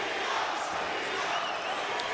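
A boxing arena crowd at a home welterweight fight roars for Santillán, a dense sustained cheer with scattered whoops and shouts, loud and unbroken throughout.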